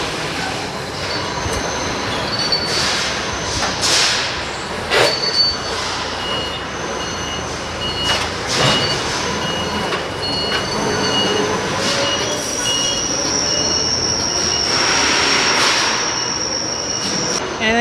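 A pallet holding four trailer axles is pulled out with loud metallic scraping and squealing, broken by sharp clanks and rattles, sustained throughout with no talk.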